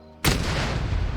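A mortar shell lands in a video game, a single sharp, loud blast that cuts in abruptly and then leaves a dense rumbling decay for about a second.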